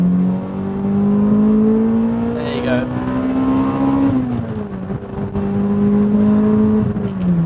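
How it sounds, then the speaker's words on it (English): Toyota Celica VVTL-i 190 engine revving keenly, its tone rising steadily, dipping briefly and climbing again, loud and close, with a voice speaking briefly over it. "Car revs very keenly."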